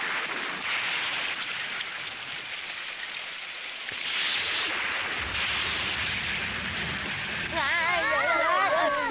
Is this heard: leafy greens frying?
no